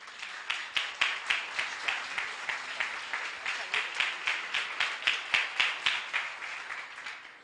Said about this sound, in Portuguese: vamos receber mais uma vez carinhosamente Maurício Zagari com um aplauso ao Senhor